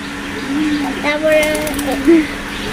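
Pigeons coo in a rural field setting with a few low, rounded calls rising over steady background murmur; a voice speaks softly nearby at times.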